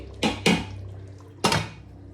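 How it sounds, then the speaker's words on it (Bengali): Cooking pot of mutton: two quick metallic clanks of the lid against the rim, then a third clatter as it settles back on, close and moderately loud over a steady low hum, with no voices. "এই তো সুন্দর করে নেড়ে চেড়ে আমি আবার লিড লাগিয়ে দিচ্ছি"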